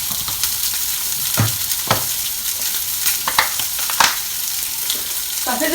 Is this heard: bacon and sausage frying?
yes